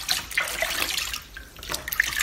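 Cold water runs from a tap in a steady, close splashing flow with small bright drips and gurgles, no talking over it.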